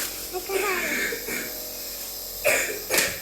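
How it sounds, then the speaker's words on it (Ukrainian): A child gives two short, wet coughs close by near the end, after a stretch of faint background noise and murmuring. "файний кашель стоїть, а то був такий сухий капець"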